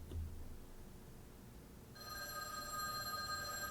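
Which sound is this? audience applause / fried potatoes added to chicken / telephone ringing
telephone ringing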